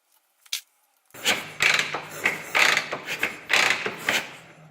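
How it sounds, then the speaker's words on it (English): A Harley Sportster with a blown head gasket is turned over on the kick starter, giving a run of rhythmic mechanical clunks and ratcheting strokes after a brief clack and a pause. Close and moderately loud, with no talk. "just turn it over with the kicker"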